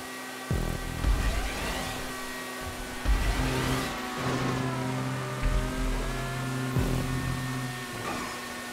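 A car engine in a GTA race drones steadily, with repeated revving sweeps and pitch drops as it shifts through gears, loud and continuous throughout.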